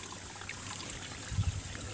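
Water trickles and gurgles steadily through a drain channel at a fish harvesting spot, faint and close, with a brief low splash near the end.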